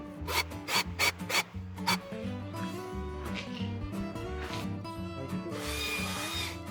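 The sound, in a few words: making holes for screw threads in e-bike part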